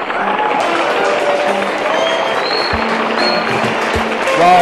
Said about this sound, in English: A round of applause to contestant number 9,